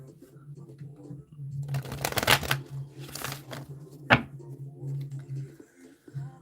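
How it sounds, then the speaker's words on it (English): A tarot deck riffled and shuffled in a few quick bursts, close up, with a sharp tap midway and a low steady hum underneath. "I'm going to shuffle out this deck right now for you."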